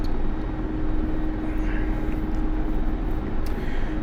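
A steady, droning rotor and turbine roar from a Mi-24P Hind helicopter in flight in DCS, loud and constant with a low thrumming hum and no breaks.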